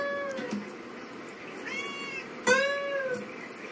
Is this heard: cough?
no